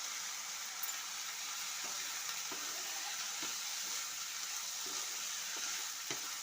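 Helencha greens sizzle steadily in hot oil, with soft scraping clicks as they are stirred with salt; a continuous close frying hiss with no voices.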